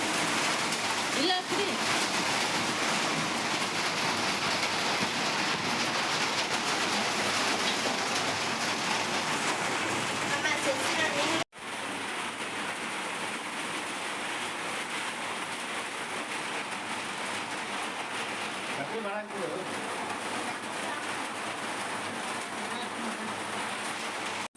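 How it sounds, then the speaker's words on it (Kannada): Steady rain hisses continuously on surfaces during a village fair, with a brief break partway through before the downpour carries on. "ಮಳೆ ಬಂದು ಐತ್ರಿ ಈಗ"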